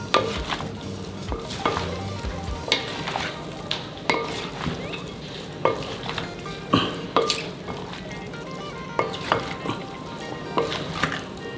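Pork kilawin with red chili frying in a pan while being stirred, with a steady sizzle under repeated close, sharp scraping and clacking strokes at an irregular pace, and no speech.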